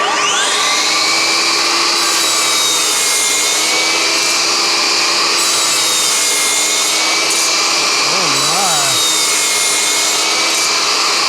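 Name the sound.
shop vacuum running for dust extraction on FLEX miter saw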